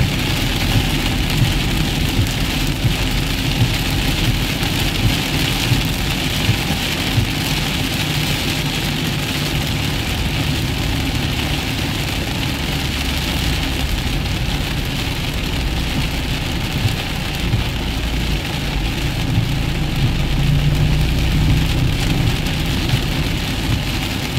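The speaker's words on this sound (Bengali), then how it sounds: "বহুদিনের আকাঙ্ক্ষিত বৃষ্টি" First rain in Kolkata pours steadily over a car, heard from inside, with a low engine idle droning underneath the constant wash throughout.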